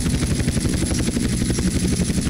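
A helicopter in GTA San Andreas gives a steady, close, loud rotor throb with fast chopping pulses over a dense engine roar, heard alone.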